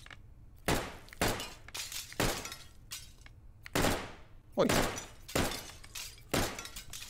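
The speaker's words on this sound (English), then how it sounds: "Shoot out all the glass." Glass windows burst under gunfire in the video game Hot Dogs, Horseshoes & Hand Grenades. It comes as a rapid run of sharp, loud cracks and smashes, some isolated and some clustered, and a voice calls out briefly once.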